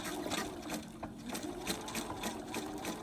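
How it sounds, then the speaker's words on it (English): A sewing machine runs a basting stitch along a 3/8 inch seam with a fast, even needle chatter. It sounds close and moderately quiet, running continuously. "Using the basting stitch as my guideline of where my 3/8 inch is. I'm going to sew all the way down."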